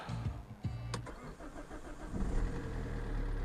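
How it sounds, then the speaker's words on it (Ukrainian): An Opel Insignia's engine starts: a short cranking burst, then the engine catches and settles into a steady, close idle with no talking. "автомобільчик в нас завівся"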